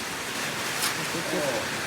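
Steady rain falls outdoors as an even, continuous wash of patter, moderately loud and unbroken for about two seconds.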